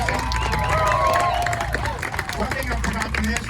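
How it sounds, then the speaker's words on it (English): Crowd applause for the Baker Racing team at a pit-lane grid walk at the IMSA Michelin Pilot Challenge at CTMP, clapping and light cheers under a nearby announcer's amplified voice. "A round of applause for you"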